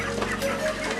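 Broiler chickens cluck softly and continuously, close by, over a steady low background hum.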